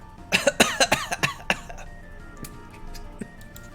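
A run of about eight sharp coughs in quick succession, close and loud, followed by quieter ticking and faint clinks.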